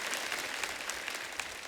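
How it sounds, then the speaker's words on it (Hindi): Steady applause from a studio audience welcoming a guest onto the stage of a Hindi comedy talk show, a dense, even clatter of many hands with no talk over it. "आप सबकी जोरदार तालियों से प्लीज वेलकम"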